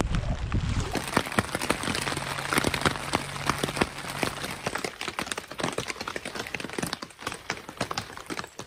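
Heavy rain pours down steadily at a wilderness canoe campsite in Pittsburg, New Hampshire, with dense crackling patter and sharp droplet hits across the whole stretch, close and loud, with no voices.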